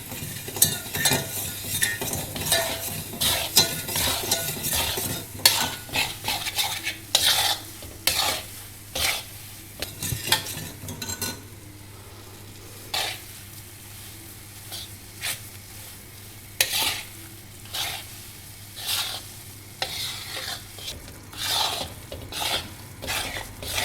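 A spoon stirs and scrapes besan (gram flour) roasting in a pan for barfi. The clip holds repeated close scraping and clinking strokes over a soft sizzle, with no speech.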